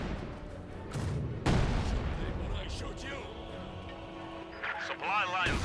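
A Company of Heroes 2 battle sounds out, with an artillery barrage of booms and gunfire rolling under continuous commentary, plus scattered sharper blasts and battlefield noise.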